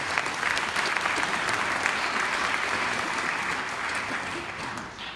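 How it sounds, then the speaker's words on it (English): An audience at a candidate forum applauds the moderator before he speaks, a steady wash of many hands clapping at moderate distance that continues throughout and fades slightly at the end. "He gets applause even before he says a word, right?"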